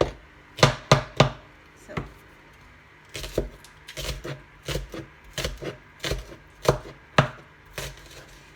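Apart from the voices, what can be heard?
chopping spring onions with a knife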